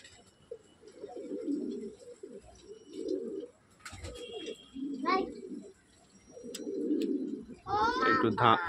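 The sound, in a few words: pigeons flying up into the open sky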